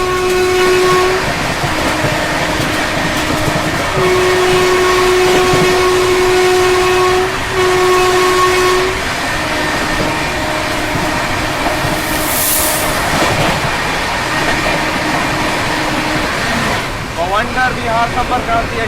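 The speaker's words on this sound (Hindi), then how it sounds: "Overtaking north east express." A train overtakes the North East Express on Indian railways, with a loud, sustained horn blaring in long blasts over steady rolling rumble and clatter, then fading toward wheel noise and a brief sharp hiss.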